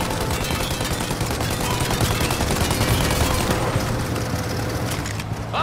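Dense, continuous rapid gunfire with booming impacts, loud and sustained throughout, a chaotic firefight in the video game Mafia: Definitive Edition.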